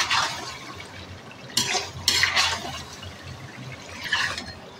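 Spoon stirring crushed coriander and cumin into mutton karahi in a pan, giving a few short scraping, clinking bursts over a low steady background hiss.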